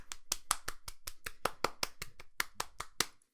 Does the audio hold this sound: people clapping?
yes